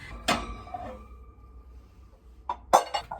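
Glass baking dishes and bowls clink together in a home kitchen, two sharp bright contacts, one near the start and a louder pair near the end, with quiet between.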